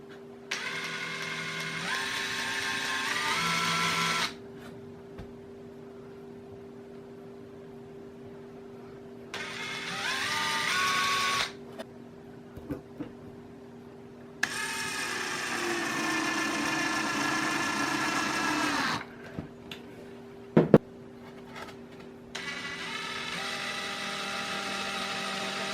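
A power drill drives screws into a wooden box shelf fitted with chicken wire, giving several close whirring bursts that rise in pitch, separated by quiet pauses, with no talking.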